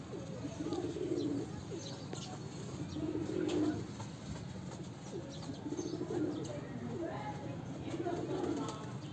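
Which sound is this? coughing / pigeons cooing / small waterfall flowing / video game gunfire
pigeons cooing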